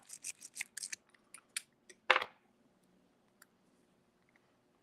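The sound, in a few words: picking a lock with a lock pick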